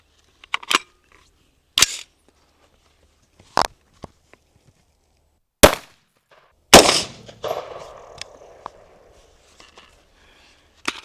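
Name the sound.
5.56 FMJ gunshots fired into corn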